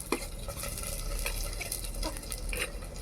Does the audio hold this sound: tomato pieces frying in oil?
yes